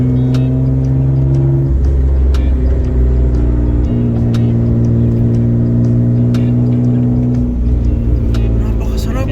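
A 1992 Mitsubishi GTO twin turbo accelerates from inside the cabin, its engine drone climbing steadily in pitch through the gears, loud and continuous, with people talking over it.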